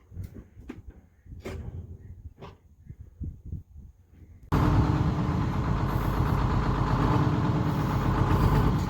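A truck engine starts up for the first time after a rescue and settles into a loud, steady running roar, preceded by several scattered knocks and clunks.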